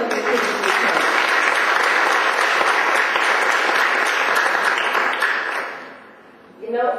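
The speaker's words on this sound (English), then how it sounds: "please give him a round of applause for Mr. Aquila" A lecture audience gives Mr. Aquila a sustained round of applause, a dense, steady wash of clapping that dies away near the end before a voice begins.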